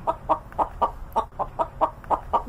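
Steady, rhythmic clucking from a chicken, about ten short clucks in quick, even succession, set within a Turkish children's song about buying a chicken at the market.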